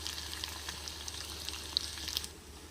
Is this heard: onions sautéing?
yes